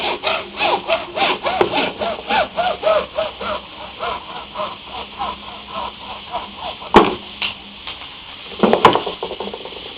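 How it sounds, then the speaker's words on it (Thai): A hand saw cuts through PVC in quick, regular back-and-forth strokes, followed by a couple of sharper knocks near the end. "การชักเลื่อยทำได้ง่าย"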